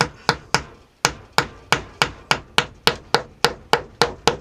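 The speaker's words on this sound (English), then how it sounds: "I'm going to pop that in the hole up top, and I'm going to just hammer it in there" Steady hammer blows driving a wall plug into a drilled hole, about fifteen sharp strikes in a regular rhythm, close and loud, each with a short ringing decay; no voices.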